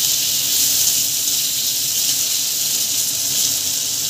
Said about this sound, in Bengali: এই মাছের তেলেই আলুটাকে আমি ভেজে নেব